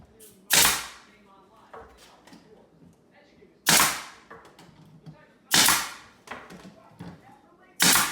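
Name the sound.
fireworks popping in the background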